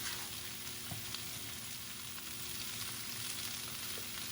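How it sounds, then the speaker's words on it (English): Vegetables sauté in a pan with a constant, fairly quiet sizzle and hiss, and a few soft clinks of stirring rise above it. Nobody speaks. "So I let that saute for about another minute, full minute"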